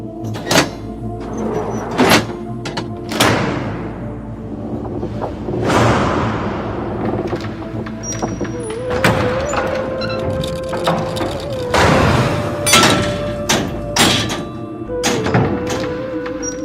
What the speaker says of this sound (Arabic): أبواب المسجد النبوي تغلق